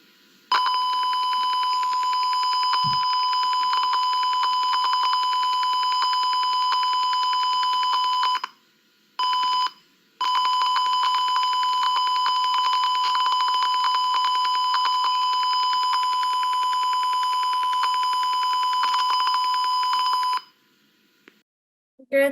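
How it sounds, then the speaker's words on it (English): A smoke detector alarm in a simulation shrills with a continuous piercing electronic tone, loud and steady, with two brief dropouts before stopping and no voices. "Great simulation. I think it's a smoke detector, which again, very useful."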